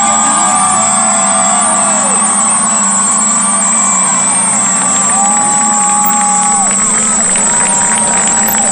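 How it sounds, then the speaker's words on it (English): High school graduation crowd at the 2023 Lincoln High ceremony, with dense, loud applause mixed with whistles and cheering that continues steadily throughout. "I would like us all to recognize with a round of applause the 2023 graduating class of Lincoln High"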